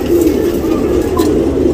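A male tournament racing pigeon of the Chini line in Bangalore coos steadily and close up, a continuous low throaty murmur filling the moment with only faint background voices.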